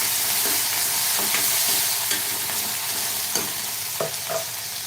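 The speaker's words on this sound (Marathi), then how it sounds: "एक बारीक चिरलेला टोमॅटो घालूया टॅमॅटो आपल्याला मिनिटभर परतून घ्यायचा आहे" Finely chopped tomato sautéing in a hot pan for a black chana curry, with a loud continuous sizzle and occasional scraping stir strokes, heard close and alone without speech.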